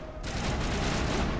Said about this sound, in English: I keep thinking the assault rifle is the shotgun or something.